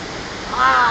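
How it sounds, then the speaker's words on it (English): A waterfall in Kobarid, Slovenia, heard up close as a steady rushing roar. A voice rises over it right at the end. "Look at this waterfall."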